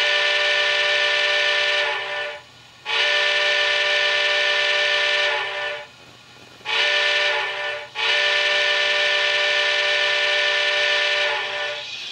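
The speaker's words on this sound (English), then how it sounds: "Let's go ahead and blow the whistle here." A loud five-chime Southern Pacific steam whistle from an MTH HO-scale cab forward model locomotive with ProtoSound 3.0 sounds in three long blasts separated by short pauses, clear and close with a steady, rich tone.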